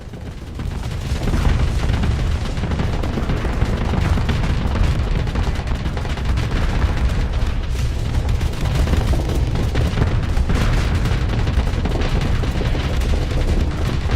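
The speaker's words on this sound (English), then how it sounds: "Exploding." A spaceship blowing up during combat in the video game Starsector, with a loud sustained rumbling roar of booms and rapid crackling blasts filling the whole stretch, steady and close, without any talking.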